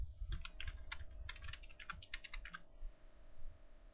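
Rapid, uneven clatter of keys typed on a computer keyboard while entering a mail address in a cPanel setup, a busy burst of keystrokes that trails off, with low room rumble underneath and no talk.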